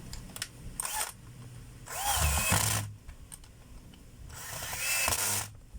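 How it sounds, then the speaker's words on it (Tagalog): A DeWalt DW810 4-inch angle grinder being reassembled, with a power screwdriver or drill driving screws in two sustained whirring bursts of about a second each, close and moderately loud, separated by quieter handling clicks. "Tapos hihigpitan na po natin mga kabay. Lalagyan na natin yung screw."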